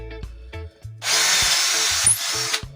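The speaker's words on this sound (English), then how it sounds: "So what I've done now is drilled another 4 holes." A power drill bores holes in wood for a clothes hanging space, a loud, close steady whirring burst that follows a few short knocks and ends abruptly.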